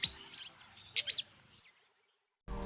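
Wild Fischer's lovebirds chirp in a series of sharp, high tweets and squeaks, some overlapping, near and fairly loud, fading before a brief burst of other noise at the end.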